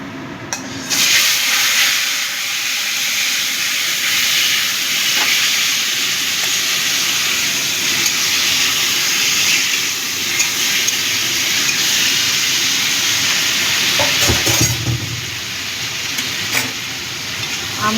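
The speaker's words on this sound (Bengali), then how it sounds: "আমটা দিয়ে একটু নাড়িয়ে নেব।" Mango pieces hit a pan of hot oil with fried tempering spices and are stirred, giving a loud, continuous sizzle and hiss that runs unbroken, broken by a few utensil scrapes near the end.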